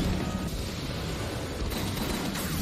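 A dense, continuous roar of gunfire and explosive blasts fills an anime battle scene, loud and unbroken throughout.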